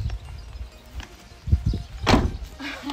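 An Apollo campervan's side door is opened, giving a few low thumps and then a louder sliding, rattling clunk of the door mechanism, close by with no talking.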